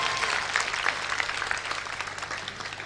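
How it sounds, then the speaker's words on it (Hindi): Audience at a Hindi kavi sammelan poetry gathering clapping together, a continuous burst of dense applause at moderate distance, with no talk over it. "आनंद आया तो एक बार जोरदार ताली होनी चाहिए"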